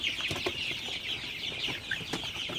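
Sonali super hybrid chickens, 42 days old, cluck at night in a poultry shed, with repeated short clucks and calls from several birds close by over a low background.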